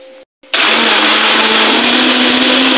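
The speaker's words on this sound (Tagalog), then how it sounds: "Blender." A kitchen blender blending boiled squash with evaporated milk and butter whirs loudly and steadily after a brief quiet moment, its motor droning without pause.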